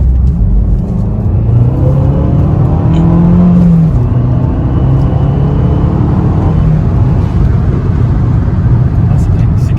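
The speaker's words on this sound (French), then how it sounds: "je pense que vous l'avez entendu, on entend vraiment le turbo" Abarth 595 Competizione with a 180 hp turbo engine pulling hard in sport mode out of a roundabout, its engine note rising then settling into a steady cruise drone, heard from inside the car.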